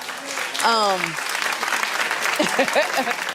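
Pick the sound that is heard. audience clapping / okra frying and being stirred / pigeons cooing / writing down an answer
audience clapping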